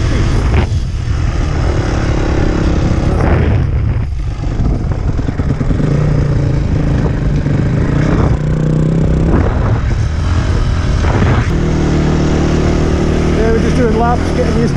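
A new Honda CRF250 dirt bike rides off-road on an enduro course, its engine droning continuously with rising and falling revs and a rough, windy edge throughout.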